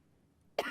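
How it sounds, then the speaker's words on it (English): A single short cough bursts out near the close after a quiet stretch, sharp and fairly loud against a faint background. "I've got a little bit of a coughing fit going on here"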